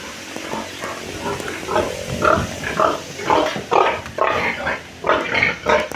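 Pigs grunt repeatedly in short, rough bursts, several animals close by with irregular rhythm.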